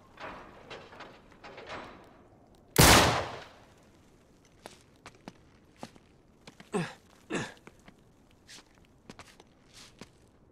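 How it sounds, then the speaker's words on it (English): A single loud, sharp gunshot rings out in Uncharted 3 as a lock is shot off, standing alone among soft footsteps and scattered light knocks and clatter. "Back up, I'll shoot the lock."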